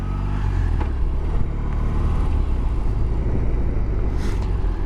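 A BMW R 18 motorcycle starts up and settles into a loud, close, deep rumbling idle with a throbbing low pulse that continues steadily.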